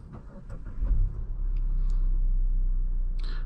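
A 2023 Mazda CX-9 Signature SUV starts up from inside the cabin: a brief starter churn near the one-second mark, then the engine settles into a low, steady idle rumble, with a couple of soft clicks and a chime near the end.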